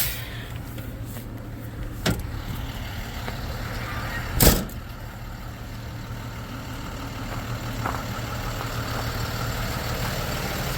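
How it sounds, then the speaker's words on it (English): A tow truck engine idling steadily, a constant low rumble close by, broken by a sharp metallic clunk midway and a couple of fainter knocks, with no voices. "now that that's all done, we gotta jump in the tow truck."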